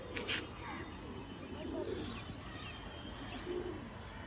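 Large, long-tailed pigeons of an old breeding line give soft, low coos in a couple of brief bursts, faint against a hissy background with a sharp rustle near the start.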